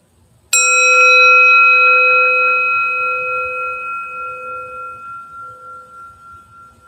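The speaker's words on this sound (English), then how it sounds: "I'm going to sound the bell once, so you can practice resting in openness to the sound of the bell until it fades away." A meditation bell used in Tibetan Buddhist Tonglen practice is struck once, ringing out loud and clear with several pure overtones, then decays slowly with a gentle wavering shimmer over several seconds in a quiet room.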